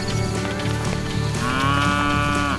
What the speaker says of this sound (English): having docile calves makes life a whole lot easier